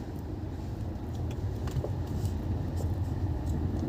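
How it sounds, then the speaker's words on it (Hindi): A car's engine hums low and steady in second gear during a driving lesson on a road, with a faint rise in level as it pulls forward. Light traffic noise sits in the background. "थोड़ा सा एक्सलेट करके हम सेकंड गियर डालेंगे"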